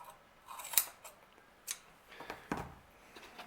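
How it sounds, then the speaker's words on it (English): Scissors cut a slit into a piece of door panel material during a Jaguar door panel repair, producing a few quiet, separate snips and crisp cuts, close and faint, with no talking. "that piece what needs is to cut a slit in it"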